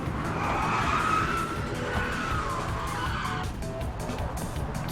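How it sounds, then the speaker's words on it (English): A fast go-kart in the video game Trailmakers drives at speed with a steady, loud engine roar and continuous skidding tire noise, easing slightly toward the end. "It's a pretty fast go-kart."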